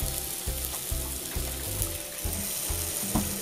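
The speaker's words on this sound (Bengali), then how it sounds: "এবার আমি একটু জল দিয়ে দেবো" Water is poured into a pan of cooking masala spices for Bengali egg tadka, a continuous splashing trickle with bubbling sizzle, close and steady throughout.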